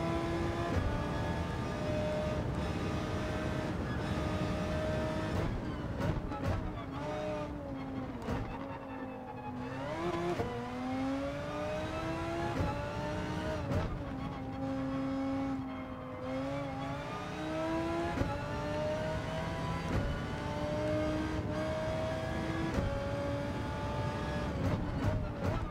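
Race car engines in Gran Turismo 7, a continuous loud whining drone that rises and falls through gear changes, with several cars' engines overlapping as they jostle and pass.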